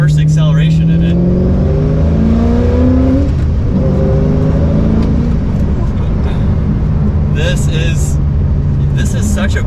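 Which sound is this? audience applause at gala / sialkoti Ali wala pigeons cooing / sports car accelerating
sports car accelerating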